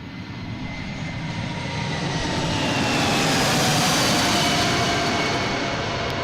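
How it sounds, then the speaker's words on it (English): Delta Airbus A319 jet landing at Boston Logan, a steady broadband engine roar that swells gradually and holds loud and close throughout, with no talk. "Coming in from Raleigh, Durham, A319, flight 1075."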